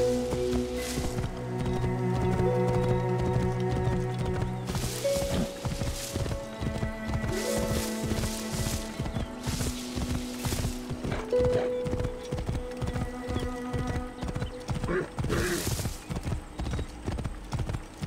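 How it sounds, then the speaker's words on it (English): Horse hooves clip-clop steadily through an Assassin's Creed Origins game scene set in ancient Egypt, a continuous walking rhythm with occasional whinnies, carrying on throughout alongside game sounds. "Horse."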